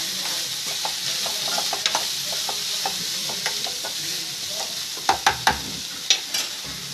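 Turmeric and salt are stirred into hot frying oil in a pan for an eggplant curry, with a steady close sizzle under repeated scraping strokes and a few louder spoon knocks against the pan near the end.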